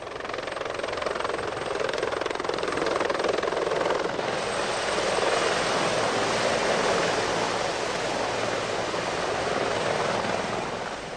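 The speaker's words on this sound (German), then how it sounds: "In einer zweiten Welle folgen mittlere Transporthubschrauber vom Typ CH-53 mit den motorisierten Teilen und schweren Waffen des Bataillons." CH-53 medium transport helicopters flying during a 1981 army exercise, a dense, steady roar of rotor and engine noise that fills the whole clip, loud and sustained with no voices.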